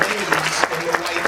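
A crowd at a 2017 unity walk rally claps and cheers in short, pulsing bursts while a voice carries over the noise, which is loud and close.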